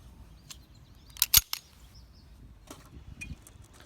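Sharp metallic clicks and a quick cluster of clacks as an FN Browning Hi-Power 9mm pistol is loaded, with a few fainter handling taps afterward in a quiet setting.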